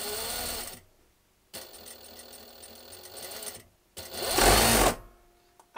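Juki DDL-8700 industrial sewing machine running under pedal control in bursts, a close, steady whirring that stops, restarts and then speeds up to a louder, higher run, with no talking.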